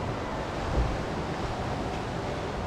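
Surf washing onto a quiet, secluded beach in Bali at dusk, a steady broadband wash of waves mixed with wind rumble on the microphone, continuous and fairly close, with no talking.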